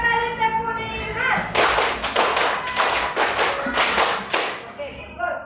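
A roomful of students in an Indonesian teacher-training class claps a five-beat pattern twice in a row, two tight groups of loud, snappy unison claps, with a teacher's voice heard at the start.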